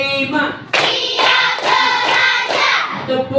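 A group claps hands together in a counted rhythm, a series of about five loud, close bursts of clapping in quick, even succession.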